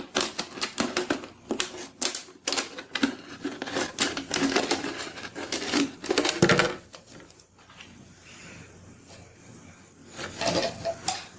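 Scissors cut through a plastic drinks bottle in a quick run of sharp, crisp snips and crackles close by, then a pause with faint rustling and a few more snips at the end.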